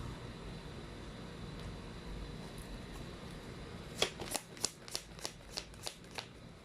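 A deck of cards is riffled, followed by a run of crisp, evenly spaced snaps as cards are shuffled, close and fairly quiet.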